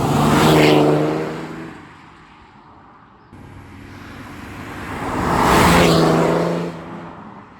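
A car on a North Coast 500 road trip in the Scottish Highlands accelerating hard after clutch work, two loud rising engine surges separated by a quieter lull, close by and with no talk.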